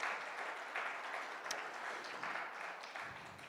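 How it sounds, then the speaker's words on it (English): Quiet audience applause for a graduating guide dog team, a handler and her dog Cheddar, at a guide dog school graduation; soft, steady patter of clapping from a modest crowd, fairly distant and even throughout. "let's give them a round of applause"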